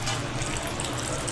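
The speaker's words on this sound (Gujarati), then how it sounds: "આપણા બટેટા સુધારાઈ ગયા બાદ આપણે તેમાં આ રીતે પાણી નાખી લઈશું" Water pouring onto cut potatoes in a vessel to wash them, a continuous close splashing gush with no pause.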